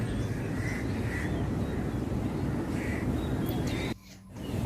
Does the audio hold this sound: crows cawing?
yes